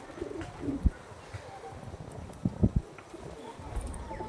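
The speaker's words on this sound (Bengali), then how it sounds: "প্রচুর ওল্ড জেনারেশনের পায়রা" Old-generation pigeons in a loft, cooing softly with a few louder, closer coos and brief scuffling thumps over steady background noise.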